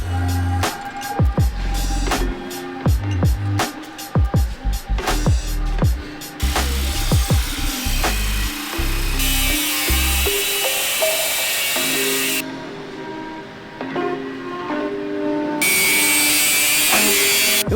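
A power tool trims the ends of two short metal tubes being fitted against the nose panel of a Porsche-based project car in a fabrication shop, giving a loud, sustained grinding whine that shifts in pitch and cuts in and out.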